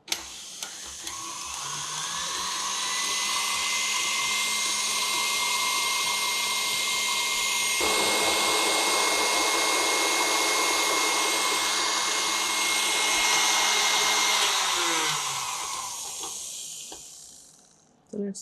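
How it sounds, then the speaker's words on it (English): Electric mixer beating Italian meringue buttercream made with egg on high speed, a loud, steady whirring hum that ramps up at the start, shifts in tone midway as the mixture thickens, and winds down near the end. "continue on high speed and keep beating, and then until it becomes smooth"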